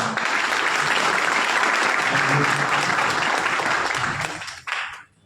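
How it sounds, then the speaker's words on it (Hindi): Loud, dense applause from an audience at an AWPL business seminar in Gangapur City, India, steady for about four seconds and then quickly fading out with a last burst of claps. "एक बार उनके लिए जोरदार तालियां।"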